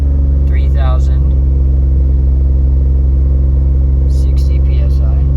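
A 1999 Mitsubishi VR4 engine held at a steady rev around 3000 RPM, a loud, constant droning hum filling the whole stretch with no pauses.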